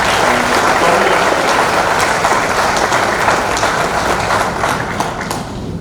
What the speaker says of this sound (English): take pause here and just have an applause for everyone.